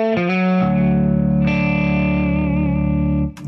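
A C R Alsip electric guitar on a middle pickup position gives a warm, mid-range bluesy tone with slight overdrive: a few sustained chords and bent notes ringing out close and loud before being cut off.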